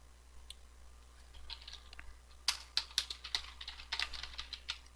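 Keys clack on a computer keyboard as a pip install command is typed, a few light taps first and then a quick, close burst of keystrokes, quiet and with no talking.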